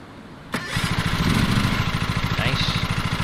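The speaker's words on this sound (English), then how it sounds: "Alright, start engine, hold Z." A ride-on lawn mower engine in the Lawn Mowing Simulator video game cranks to life after half a second of quiet, then settles into a steady, close, chugging idle.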